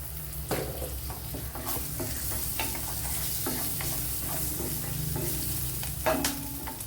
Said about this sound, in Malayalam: ശകലം ഓയിൽ ഒഴിച്ച് കൊടുക്കുക